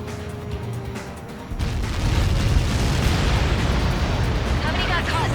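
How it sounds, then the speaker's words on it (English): Massive explosion in the flight combat video game Ace Combat 7: a quieter opening gives way to a sudden loud, sustained rumbling blast that keeps roaring for several seconds. "How many got caught in that explosion?"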